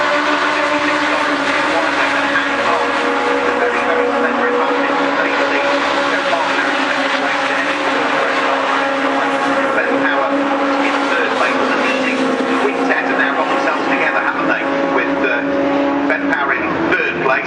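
Racing trucks thundering past at Brands Hatch circuit, a loud, continuous roar of big engines at full throttle with a shifting pitch as they run nose to tail, while a commentator talks over the top.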